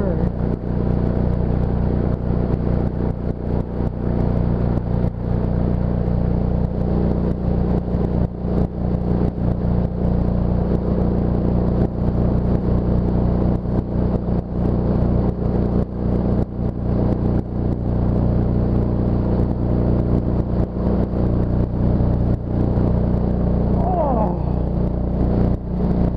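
Mokai motorized kayak engine cruising on water near the Marysville boat launch: a loud, steady low engine drone throughout with constant wind and water rush, a voice talking over it.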